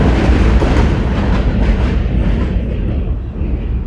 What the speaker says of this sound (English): I'm going to wait for the train to pass